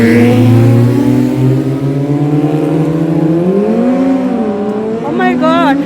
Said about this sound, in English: More motorbike, the noise.